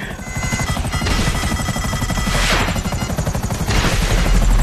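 Loud, rapid helicopter rotor chopping in GTA Online pounds throughout, with bursts of crashing noise over the thumping beat.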